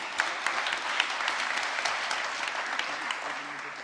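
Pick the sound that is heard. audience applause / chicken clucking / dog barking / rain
audience applause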